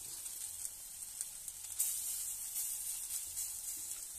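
Khesari lentil fritters fry in oil with a steady, fine, high-pitched sizzle and faint crackles, fairly quiet and continuous with no talking.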